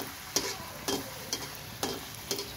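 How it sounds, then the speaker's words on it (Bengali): Luchi frying in a small kadai with little oil: a soft, steady sizzle under five evenly spaced sharp clinks or scrapes roughly half a second apart, close and fairly quiet, with no talking. "ছোট্ট কড়াই নিয়ে নিলে অল্প তেলে সব কিছু ভাজা যায়,"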